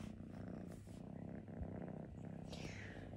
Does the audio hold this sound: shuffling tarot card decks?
no